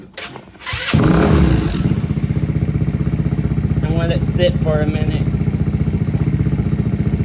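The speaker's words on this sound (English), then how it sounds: "Now we need to start up the engine." A Predator 200 engine on a go-kart cranks, catches and settles into a loud, steady single-cylinder idle with a rapid even putter, close by, with someone speaking briefly over it.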